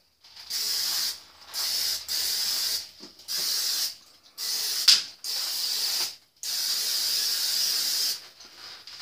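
A spray can is used in a kitchen, giving repeated loud, hissing sprays in about seven bursts of one to two seconds each, separated by brief pauses.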